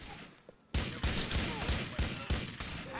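Rapid, loud gunfire bursts in the video game GTA IV repeating at a steady pace, about six heavy shots in quick succession after a brief quieter moment.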